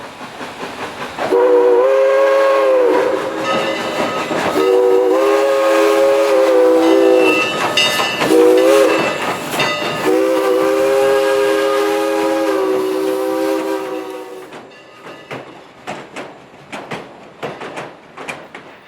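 Southern Railway steam locomotive 154 climbs a grade near Knoxville, its loud whistle sounding in several long blasts over chugging stack exhaust, then the whistle stops and the rhythmic exhaust beats carry on fainter as it passes.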